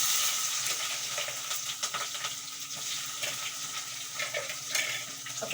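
Chopped onion hits cumin seeds in hot oil, giving a steady loud sizzle and crackle that stays dense throughout with scattered pops and stirring scrapes.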